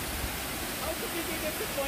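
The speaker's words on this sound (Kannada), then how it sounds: "The waterfall is amazing" A tall waterfall pours in a hilly forest, heard as a faint, steady broadband rush of falling water that stays constant from start to finish.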